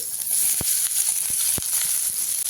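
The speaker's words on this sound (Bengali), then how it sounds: "তেলটা গরম হয়ে গেলে আমি এখানে দিয়ে দেবো পেঁয়াজ কুচি" Chopped onion sizzling in hot oil in a kadai over a low gas flame, a steady bright hiss with a few soft pops and ticks, no talking.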